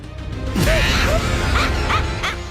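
A dog in a Sinhala film trailer gives a few loud, close barks and whining yelps over a dense mix of music and effects.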